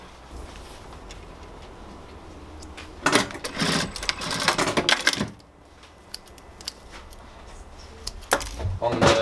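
A sewing machine tacks a leather loop onto a handmade sandal, stitching in two loud rattling bursts separated by a quieter stretch of room noise.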